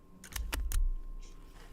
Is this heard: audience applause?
no